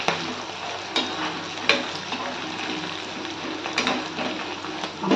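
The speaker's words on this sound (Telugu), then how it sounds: "ఎంత బాగా వేగుతున్నాయి కదా" Ingredients for lemon rice fry in a pan with a steady close sizzle and occasional stirring clicks and scrapes.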